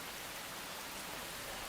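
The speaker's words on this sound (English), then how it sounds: "The whistling of the wind accompanies the pouring of rain and drowns out all of our sounds." Heavy rain pouring steadily in the video game Girls' Frontline during a storm, a dense continuous hiss with no talk, even and unbroken throughout.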